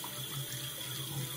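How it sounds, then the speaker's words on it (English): Tap water runs in a steady, even stream over bleached hair, a close, constant splashing hiss with no talking. "I'm gonna start by just running water on it"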